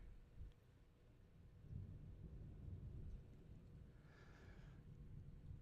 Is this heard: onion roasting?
no